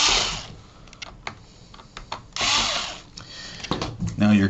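A power drill driving screws into a keyboard case, with several short bursts of whirring spaced between clicks and handling noises, close and fairly loud.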